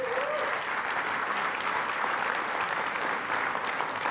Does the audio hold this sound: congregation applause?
yes